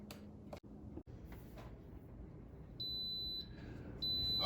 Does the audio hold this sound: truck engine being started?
no